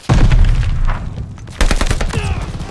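Rapid pistol gunshots crack through a Call of Duty: Vanguard Control match, a dense burst of sharp reports early on, a brief lull, then another close cluster of shots with faint speech underneath.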